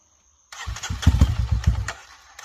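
A motorcycle engine cranks and catches in a mud pit, firing in quick uneven bursts at close range before settling to a quieter idle, with no talking over it.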